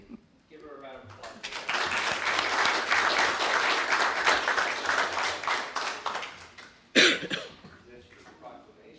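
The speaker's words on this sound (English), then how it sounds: "Give her a round of applause." Audience applause at a regular commission meeting: dense, sustained clapping from a crowd that swells and holds for several seconds, with a sharp louder burst of claps near the end before tapering off.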